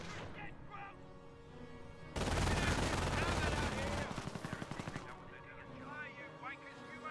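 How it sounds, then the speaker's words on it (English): An MG42 machine gun hammers away from a garrisoned building in Company of Heroes 1, with a loud sustained burst in the middle that breaks into rapid rhythmic rounds, then quieter battle noise and faint talk. "You have an MG42 inside this garrison"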